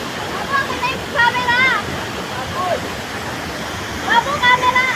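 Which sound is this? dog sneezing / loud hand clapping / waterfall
waterfall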